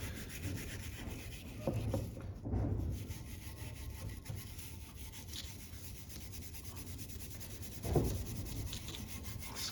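Scrubbing a Chevy 350 V8 cylinder head with a brush, a steady close rasping rub that continues throughout with a few louder strokes.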